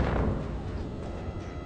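A heavy explosion in the video game Far Cry 4, a deep booming rumble already underway at the start that slowly fades and rolls off, loud and low with no voices.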